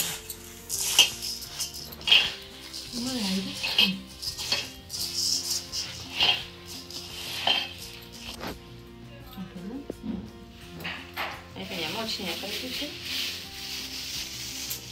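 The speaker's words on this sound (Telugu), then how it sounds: "ఆ బియ్యం అయితే కలుపుతున్నాం." Rice grains scrape and rustle as they are mixed in metal pots for the Bonalu festival in Telangana, in repeated bursts with clinks of metal, while a few voices speak quietly at intervals.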